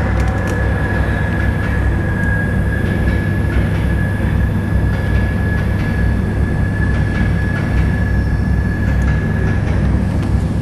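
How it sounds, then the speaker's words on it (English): A train rumbles past near the High Bridge in Newcastle, a steady loud low roar with a faint sustained whine above it, continuous throughout with no voices. "Sounds like a train's coming by"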